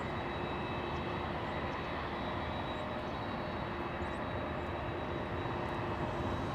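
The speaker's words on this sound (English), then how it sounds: "All Nippon, a 787 Dreamliner." An All Nippon Airways Boeing 787 Dreamliner at LAX gives off a steady, loud jet engine roar that holds unbroken throughout with no talk.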